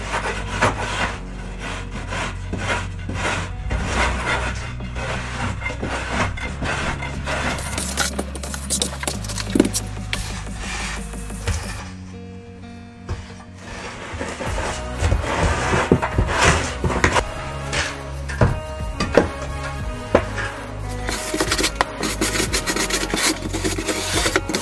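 A trowel or straightedge scrapes and rubs across a wet mortar bed for a shower pan during a bathroom steam shower install, giving steady close grinding strokes with a short pause near the middle.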